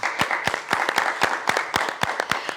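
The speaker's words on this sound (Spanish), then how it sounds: "Vamos a recibir con un fuerte aplauso" Applause from a church crowd welcoming a pastor, with sharp individual claps standing out in a steady rhythm over a continuous wash of clapping.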